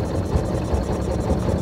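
A Honda engine running submerged underwater barely idles, giving a rough, muffled, noisy rumble with faint irregular low pulses, steady and close for a brief moment, no voices.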